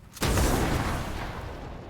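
A sudden loud explosion in Fortnite booms and then rumbles, slowly fading over the next second or two.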